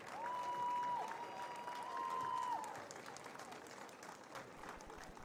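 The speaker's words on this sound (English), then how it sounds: "Give one more round of applause for these seniors" Applause for the seniors at a Dutchtown Lady Griffins vs St Amant Lady Gators basketball senior night, a steady crowd clapping through the whole stretch, with a tone sounding briefly early on.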